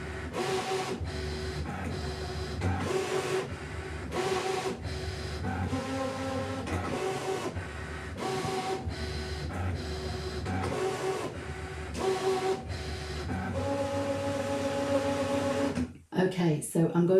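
A ScanNCut cutting machine draws quilt block shapes on fabric with a pen, its motor whirring loudly in steady, repeated bursts that run almost continuously before a brief break near the end.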